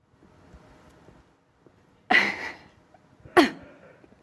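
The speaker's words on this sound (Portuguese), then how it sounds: "vou tossir de novo" Two sharp coughs from a person, the first at about two seconds and the second near three and a half seconds, close and fairly loud against a quiet room, with no talking.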